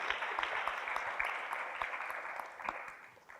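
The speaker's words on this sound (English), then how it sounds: "I think we deserve a big round of applause for all of us who made it." Conference audience applauding at the opening of an afternoon workshop session in a hall, a steady moderate patter of clapping lasting a few seconds, slightly distant, with no speech over it.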